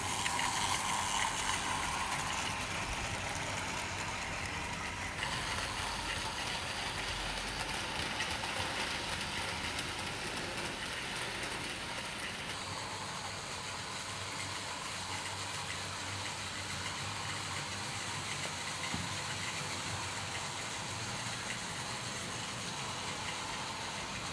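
A model goods-train locomotive runs steadily on a layout, giving a continuous mechanical whir and track rumble with faint clicking, moderately quiet and unbroken, with no voices.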